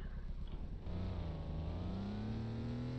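A Dodge Ram Rebel TRX truck engine in low gear in the off-road game Offroad Outlaws, a steady droning growl that rises slowly in pitch as it strains forward, close and alone.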